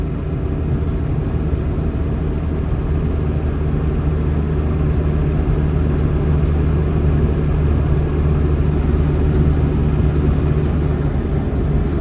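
A 1963 Morris Mini Minor 850 Mark 1, with an early gearbox lacking first-gear synchro, drones steadily while driving, a loud, even engine hum with road and cabin rumble and no pauses.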